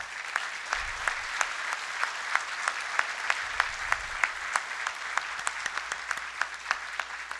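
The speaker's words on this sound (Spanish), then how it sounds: "Por favor, un aplauso para ellos." An audience claps for a mining company at an awards ceremony, a bright, continuous round of applause lasting several seconds. Sharp, evenly spaced thumps punctuate it from start to finish, with a couple of low rumbles under the clapping.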